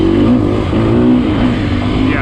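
Sherco dirt motorcycle engine, one of the 125se, 250se, 300sef or 450sef demo bikes, droning loudly and steadily with slight rises in revs, mixed with wind and riding noise.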